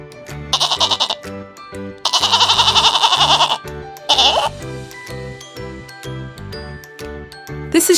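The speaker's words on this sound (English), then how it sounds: "This is goat." Three loud, wavering goat bleats, the middle one longest, ring out over a light, jingly children's music loop.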